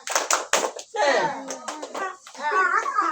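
Several sharp claps in a quick rhythmic pattern, an Indonesian classroom spirit clap, followed by children's voices chanting together.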